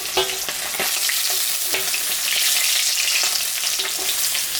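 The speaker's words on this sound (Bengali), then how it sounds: "মাছটা ভাজা হয়ে গেছে আমি এখন তুলে নিই" Silver carp pieces frying in hot oil for a fish curry, a loud, continuous crackling sizzle with occasional scrapes of a spatula.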